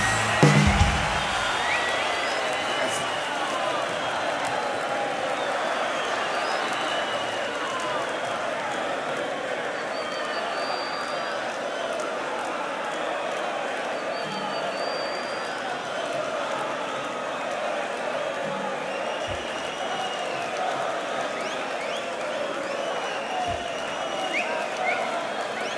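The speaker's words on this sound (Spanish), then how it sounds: "Ahora pueden aplaudir, ¿eh?" A live concert audience at a show in Microestadio Malvinas Argentinas applauds and cheers in a sustained, roaring wash of clapping and crowd noise, opening with a sharp thump, with voices mixed in.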